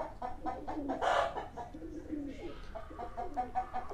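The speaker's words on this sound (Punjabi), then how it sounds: "ਆਹ ਕਬੂਤਰ ਹੈਗੇ ਆ ਜੀ" Fantail pigeons coo softly on a farm, low throaty calls close by, with hen clucks and other fowl mixed in the background.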